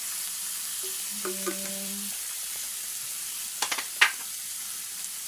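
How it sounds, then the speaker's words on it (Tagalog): Soy sauce is added to bitter gourd in a hot pan and sizzles in a steady hiss, with brief tonal beeps early on and a few clinks and scrapes near the end. "Lagyan natin ng soy sauce konti."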